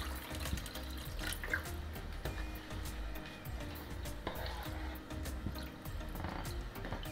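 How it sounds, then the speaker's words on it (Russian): Water runs steadily from a kitchen tap into a cooking pot while making tomato plov, a continuous splashing fill with low rumbling that holds throughout, close and moderately loud, with no voices over it. "Заливаем воду и ждем, когда вода кипит."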